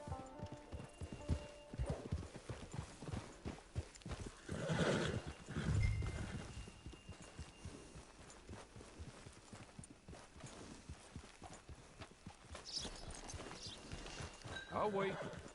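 Horse hooves clip-clopping with a neigh in a PS4 game, steady hoofbeats running through most of the stretch with a whinny near the middle, while voices talk over the scene.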